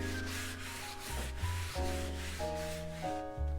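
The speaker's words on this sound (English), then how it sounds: "I use a little bit less coarse sanding sponge, and I use a circular motion." Close, steady rubbing and scrubbing strokes of a sanding sponge in circular motions across an old painting canvas, repeating in a loose rhythm without talk.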